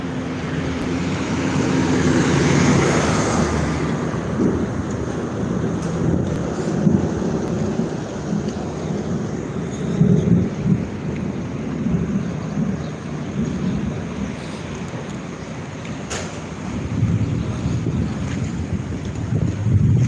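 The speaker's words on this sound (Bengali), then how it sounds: "বৃষ্টি শুরু হচ্ছে মাত্র" Stormy weather over Mecca brings gusty wind that buffets the microphone for about twenty seconds, with deep rumbles of thunder and the onset of rain underneath. No one speaks.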